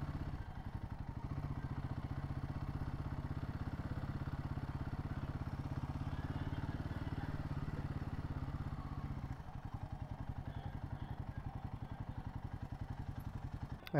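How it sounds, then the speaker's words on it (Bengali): A motorcycle rolls in and parks, its engine putting out a steady, rhythmic low thrum that shifts briefly midway and carries on at idle, fairly faint throughout. "এই বাইকটা পার্ক করে দিলাম"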